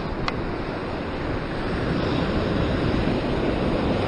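Ocean waves roll in at a sea fishing spot near Sydney, a loud continuous wash of surf with steady wind buffeting the microphone, no voices.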